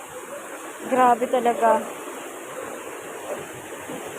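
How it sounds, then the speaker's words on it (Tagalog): Strong floodwater rushing past homes during a typhoon downpour, a steady broad roar running throughout, with a person speaking briefly over it. "Sobrang lakas ng tubig,"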